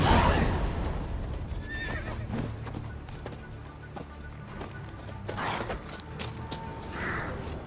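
Roach, a horse in The Witcher 3 video game, neighs and whinnies several times over clip-clopping hooves, with a louder whinny at the start and more calls near the end.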